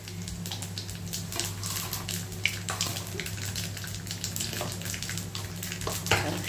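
Nigella seeds crackle in a spoonful of hot oil, a bright close sizzle with scattered pops and spatters over a low steady hum.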